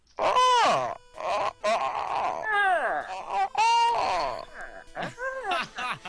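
Several voices imitate raptor calls with rising and falling shrieks and screeches, loud and close, overlapping one another.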